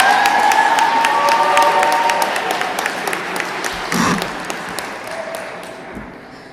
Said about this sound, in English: Can I get another round of applause for Keem, please?